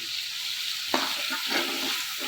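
Two or three chopped chilies drop into hot oil with a sudden sizzling burst, then a continuous close hiss and crackle of frying as they are stirred.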